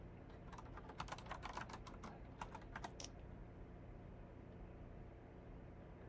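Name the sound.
typing on a computer keyboard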